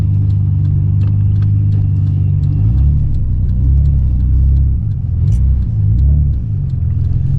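Nissan Skyline R34 GT-R engine idling and rumbling at low speed while parking, a deep steady drone with small throttle rises and dips, close and loud throughout.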